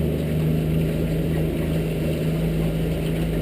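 Motor on a 2003 Alumaweld 15-foot Stryker boat running smoothly at around 2,800 to 3,000 RPM, not yet on plane, a steady loud hum with a constant tonal whine and water rush, close, no talk.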